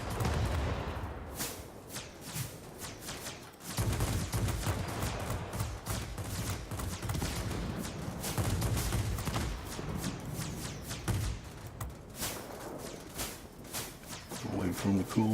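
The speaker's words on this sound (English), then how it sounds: "let's see what these mighty guns can do" Rapid bursts of aircraft cannon fire from the J7W2 fighter in World of Warplanes, loud repeated volleys with brief pauses, layered over steady engine drone and game effects.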